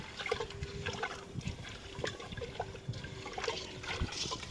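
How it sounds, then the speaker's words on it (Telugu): Raw chicken washed by hand under running water while prepping a village-style chicken curry; a steady splashing trickle continues throughout with no voices. "ఇప్పుడు శుభ్రంగా చికెన్ కడుక్కుందాం."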